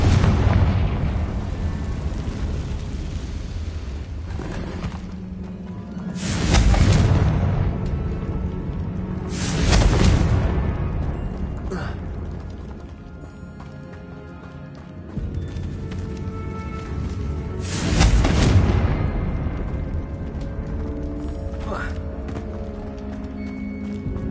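Bombarda and Confringo explosion spells go off in Hogwarts Legacy, near an abandoned cave prone to cave-ins. Three heavy booming blasts come several seconds apart over a constant rumbling, clattering game background.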